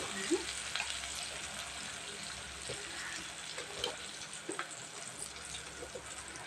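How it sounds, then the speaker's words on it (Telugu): Chicken fries in a pan with a continuous, fairly quiet hiss and sizzle, broken by occasional crackles and soft stirring sounds. "చికెన్ అయితే ఫ్రై అవుతుంది"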